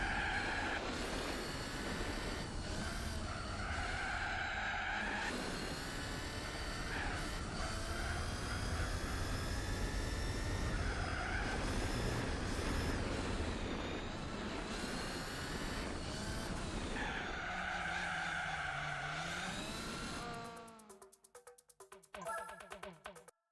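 A race car engine in Gran Turismo 4 drones loud and constant, its pitch rising and falling through the gears, with squealing tyre skids mixed in. It cuts out abruptly near the end, leaving choppy glitchy fragments.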